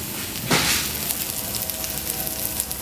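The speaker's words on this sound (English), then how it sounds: "And now we've got a nice hot skillet. And we're going to saute these." Cremini mushrooms sauté in organic olive oil in a hot skillet, a loud burst of sizzling as they hit the pan, then a steady crackling fry that continues throughout.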